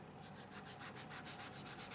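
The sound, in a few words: sanding a Yamato scale model part with sanding stick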